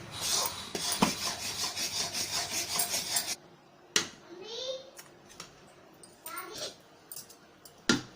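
A spoon scrapes and stirs a kaju katli cashew mixture in a kadhai, a rhythmic rasping that stops after about three seconds, followed by sparse knocks and a voice talking.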